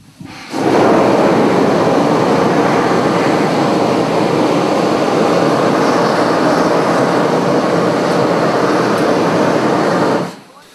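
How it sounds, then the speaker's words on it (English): A steam locomotive boiler blowdown, scalding water ejected from the bottom of a boiler under full pressure, makes a loud, sustained roaring hiss that starts and stops abruptly and lasts about ten seconds. "you're releasing water at the low part of the boiler, but the boiler's under full pressure"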